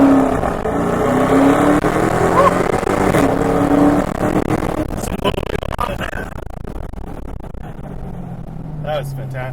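A 2017 Dodge Charger Hellcat engine roars as the car accelerates hard, a loud rising and shifting drone heard from inside with people talking over it.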